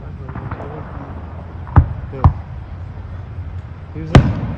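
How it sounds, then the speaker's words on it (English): Three sharp firework bangs sound at a distance, spaced unevenly over a steady background hum, with people talking faintly in between. "fireworks all around here."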